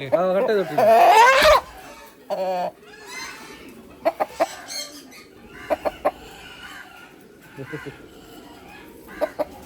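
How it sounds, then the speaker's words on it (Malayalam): Farm chickens raised on a homestead in Kerala, with a loud clucking and squawking burst at the start, then short scattered clucks and pecking noises over quiet farmyard background. "ഇവിടെ തന്നെ വിരിഞ്ഞു വളർന്ന കോഴിയാണ്"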